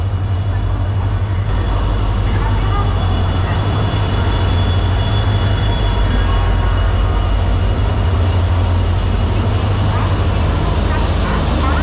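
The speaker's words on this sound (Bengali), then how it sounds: "এই হচ্ছে আমাদের ট্রেন ঢুকছে।" A Howrah to Puri passenger train arriving at a busy station platform, with a loud, steady low rumble and grinding of rolling wagons filling the whole stretch, constant and near.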